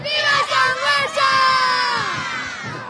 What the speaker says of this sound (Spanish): no hay mejor forma para despedirnos que gritando todos juntos ¡Viva Sangüesa!